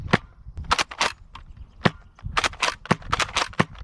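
A Nerf N-Series Pinpoint bolt-action blaster fires darts downrange, each shot a sharp snapping pop with bolt-cycling clacks between them, heard as about ten irregular, close, crisp reports.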